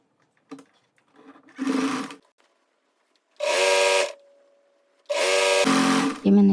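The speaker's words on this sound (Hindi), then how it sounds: "अब इसके नीचे के गोलाई को सिल लेंगे।" Sewing machine stitching suit fabric in short bursts, three loud whirring runs of a second or so each separated by pauses, with faint clicks before and a lingering hum between runs.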